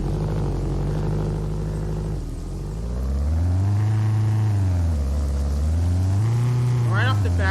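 A 2016 Honda Civic engine hums steadily from inside the cabin, its pitch rising and falling in smooth swells as the car accelerates, loud and continuous throughout.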